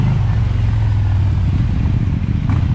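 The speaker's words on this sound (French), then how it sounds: "Petite Triomphe qui fait la course." A Triumph motorcycle races past close by, its engine a loud, steady low drone heard over continuous wind rush.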